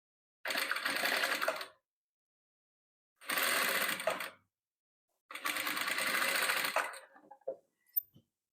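Domestic sewing machine stitching yellow patchwork fabric, three close bursts of rapid mechanical whirring separated by pauses, the last ending in a few small clicks.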